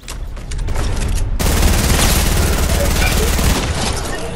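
Submachine gun fire in Fortnite: a few scattered shots, then a loud, continuous burst of rapid automatic fire that runs for about two seconds before easing off, with sharp booming impacts throughout.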